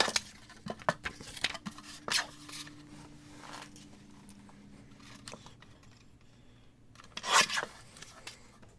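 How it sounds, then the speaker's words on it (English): Scissors cut a straight line through a 6x6 sheet of craft paper in faint, close, irregular snips and rasps, with a louder crunch of paper near the end. "Just need to cut a straight line"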